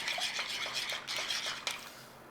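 Stirring a thickening tinned salmon sauce with Dijon mustard in a pan, a steady run of soft scraping and light metallic clinks of a utensil against the pan, close and continuous, with no talk.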